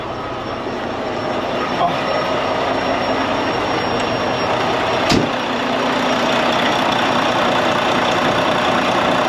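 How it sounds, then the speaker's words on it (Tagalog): A truck engine idles after its tensioner was replaced and a check-engine fault cleared, giving a steady, loud, even drone with one brief knock partway through. "Ayan guys, yung tunog ng truck."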